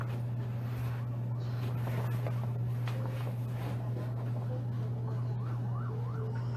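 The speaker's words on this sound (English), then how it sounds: "Here comes another ambulance." An ambulance siren wails in a rising and falling pattern as the vehicle passes, loud and steady over a constant low engine or traffic hum, with no talking.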